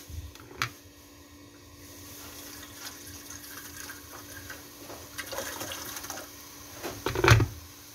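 A little water is poured into a pan of braised mackerel, heard as soft, low liquid splashing with a short, louder pour near the end over a faint room background.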